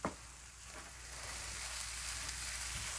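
Eggs fry in a pan, a dense, steady sizzle close by that sounds alone at an even level after a brief knock at the start.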